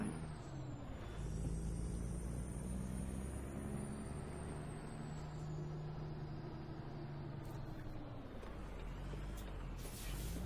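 Peterbilt 377 truck hauling ice cream in American Truck Simulator, its engine droning steadily as it drives, with a high whine sweeping through and brief hissing bursts near the end.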